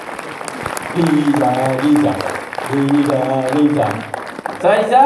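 An audience claps for the winner at a French event while someone speaks loudly over the applause, the clapping fairly steady beneath his voice.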